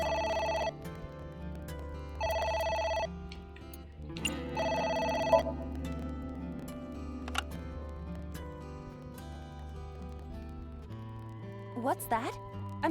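A telephone in the video game AI: The Somnium Files rings in three bright, trilling bursts over game music, each about a second long and evenly spaced.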